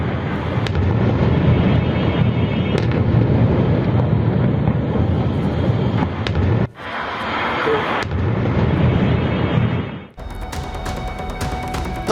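Israeli bombing strikes a residential area of Beirut with large buildings, producing a sustained, loud, roaring rumble with crackling bursts that drops off abruptly twice before resuming.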